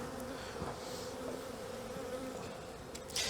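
Honey bees buzzing steadily around an opened hive during a spring inspection after winter, a close, continuous drone of agitated insects with no talking.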